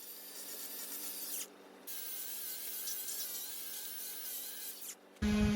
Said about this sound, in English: Without this, we wouldn't have been able to do a nice sanding job.